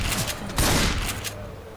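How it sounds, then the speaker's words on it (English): A quick volley of gunfire from the Left 4 Dead video game cracks out in a short cluster of sharp shots, fairly close, with a faint voice in the background. "Oh no, I shot a guy."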